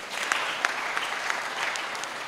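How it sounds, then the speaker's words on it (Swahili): Audience clapping at a Kiswahili arts performance event at a secondary school, a dense, steady round of applause from a crowd with no talk over it. "Makofi tumpigie jamani"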